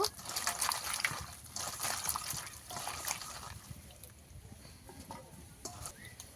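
Cut cauliflower pieces washed in water, a steady close sloshing and trickling of water with splashes and rustling, loudest at the start and fading slightly toward the end, with no talking.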